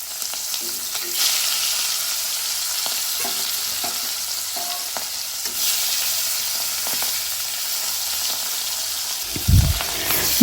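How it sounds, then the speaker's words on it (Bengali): Hilsa fish fries in hot oil in a wok, giving a continuous close sizzle with occasional spatter bursts and soft stirring sounds, ending with a brief low thump. "এখন আমরা একটা কড়াইতে পরিমাণ মতো তেল নিয়ে নিব। তেলটা গরম হয়ে গেলে তার মধ্যে দিয়ে দিব মাছ।"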